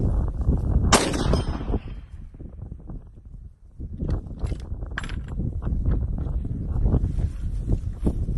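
Three rifle shots from a Remington 770 firing 140 grain Remington Core-Lokt ammunition at a 100-yard range, each a sharp loud crack with a short echo, over steady outdoor wind noise.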